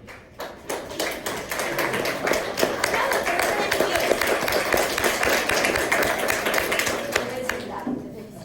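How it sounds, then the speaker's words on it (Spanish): A university embryology class claps for a student who scored 19 on an exam. Scattered, quick handclaps build and hold for several seconds with voices talking over them. "Aplaudamos a ella que le ha sacado 19 en el examen"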